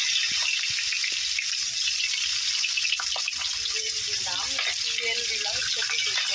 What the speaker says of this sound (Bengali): মাছগুলো ভাজা হতে থাক।